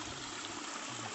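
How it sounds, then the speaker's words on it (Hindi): A thin stream of water trickles at the source of the Son river in Amarkantak, giving a faint, steady, even wash of flowing water with no voices. "ये आप नीचे जो जलधार देख रहे हैं ये सोन नदी की जलधार है।"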